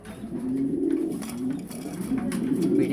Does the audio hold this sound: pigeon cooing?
yes